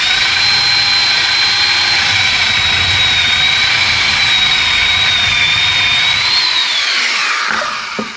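A loud, sustained high-pitched whine of a power drill boring a hole in hammer stock runs steadily for several seconds, then winds down at the end.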